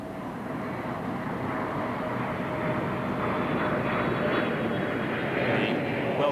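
A de Havilland Comet jet airliner flies low over Heathrow in an anniversary flypast, a loud, broad roar that swells steadily as it passes close overhead.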